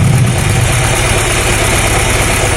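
A car engine idles with the number 3 spark plug wire pulled off, a misfire condition. It makes a loud, close, continuous low rumble with a steady pulsing throb throughout.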